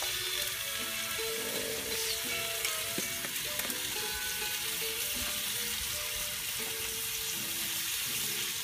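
Smoked salmon with paprika, asparagus, onion and dressing cooks on a grill, giving a steady, close, continuous sizzle with faint popping and crackling throughout.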